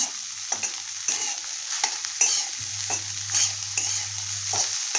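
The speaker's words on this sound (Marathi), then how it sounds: "हे मस्त असं भाजून द्यायचं आहे आता" Leftover rice stir-fried in a pan for fried rice, producing a steady bright sizzle broken by rhythmic scraping strokes of a spatula, close up with no talking.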